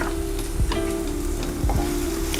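Chili powder and onions frying in a pan, a loud close sizzle that runs continuously, with a steady hum and two soft thuds as the mixture is stirred, no talk.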